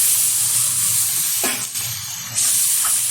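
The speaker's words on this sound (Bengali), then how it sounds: "দিয়ে দিচ্ছি পরিমাণ মতো জল" Water poured into hot, sizzling fried masala for egg curry; a loud steady hiss dips briefly, then surges back as the liquid hits the pan, with no talking.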